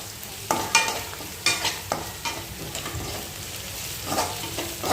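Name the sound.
ginger garlic paste being sautéed in a pan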